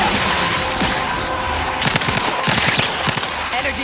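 Dense video game gunfire during a battle in The Outer Worlds 2, a loud, continuous rattling fusillade of rapid shots that fills the whole stretch.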